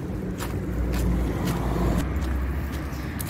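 Steady rumble of highway traffic in Oman near Avenues Mall, heard while crossing on foot; a continuous low roar with a few passing vehicles swelling and fading, no talk.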